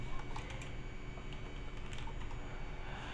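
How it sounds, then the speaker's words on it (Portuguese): Fingers type steadily on a computer keyboard, producing a quick run of soft, close clicks over a faint steady room hum, with no talking. "Vou colocar aqui, escrever qualquer texto mesmo"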